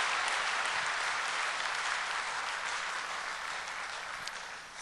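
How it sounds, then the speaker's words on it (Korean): A congregation at a Korean church Sunday service claps in a dense, sustained round of applause that fills the room evenly and fades slightly near the end, with no voices over it. "한 번 더 크게 박수해 주십시오"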